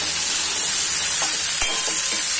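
Drumstick pods slide into a hot pan of frying vegetable bhaji, giving a steady close sizzle with a few soft knocks and stirring scrapes partway through.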